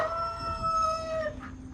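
A chicken near a homestead coop that houses chickens and ducks calls once in a drawn-out, tonal cry. It is fairly close and heard alone over faint background noise.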